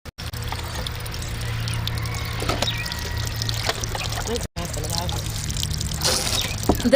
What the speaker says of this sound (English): kept under this machine, which presses out all the excess water and also removes starch